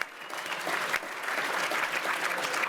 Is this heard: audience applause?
yes